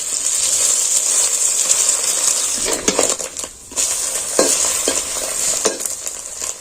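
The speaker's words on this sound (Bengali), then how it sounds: "প্রথমেই আমি কড়াতে তেল দিয়ে ডিম ভেজে নেবো" Eggs frying in hot oil in a wok, a steady bright sizzle throughout with several sharp scraping stirs of a utensil against the pan, close and fairly loud with no talking.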